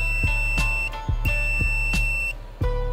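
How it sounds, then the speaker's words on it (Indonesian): A multimeter's continuity buzzer sounds a series of short, sharp electronic beeps, about six in irregular succession, close and loud over a faint steady hum. "Bisa juga kita menggunakan buzzer pada avometer, ya, maka akan terdengar suara bip."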